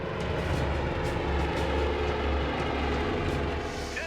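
A helicopter flies close by carrying tanks, giving a loud, continuous rotor and engine roar with a rhythmic chopping pulse throughout.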